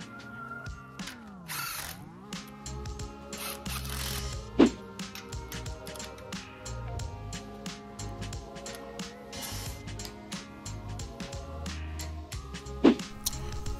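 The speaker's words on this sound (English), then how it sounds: "I'm going to install the 2 bolts to the front lower ball joint attachment, and I'm going to torque these at 118 foot-pounds" Wrench work on the two front lower ball joint bolts, torqued to 118 foot-pounds, brings repeated ratcheting clicks and metallic tool clatter, close and moderately loud, with a couple of sharper clanks.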